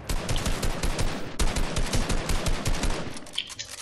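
Rapid automatic gunfire in the video game Fortnite rattles out in dense, fast bursts of close, loud shots that carry on almost unbroken for several seconds.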